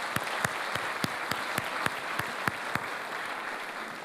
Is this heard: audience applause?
yes